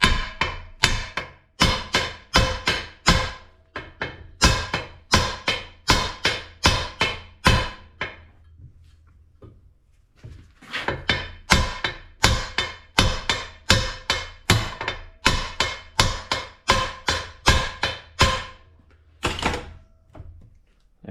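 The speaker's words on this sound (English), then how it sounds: "use your bench vise and a hammer, and just hit right next to the yoke there." Rapid rounds of hammer blows hit the U-joint caps of a Chevrolet C10 driveshaft held in a bench vise, loud ringing metallic strikes in quick bursts, with a brief pause midway before pounding resumes.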